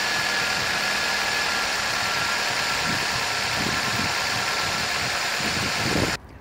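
2007 Ford Focus engine idling, a steady mid-pitched rumble with a faint rhythmic knock, continuous and close, cutting off abruptly at the end.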